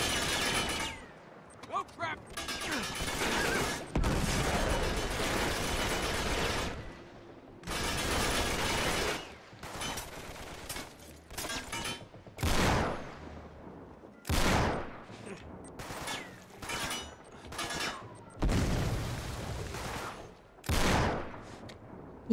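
Gunfire from a shotgun in the video game Uncharted 3, with repeated loud bursts of shots and blasts arriving in clusters amid game noise.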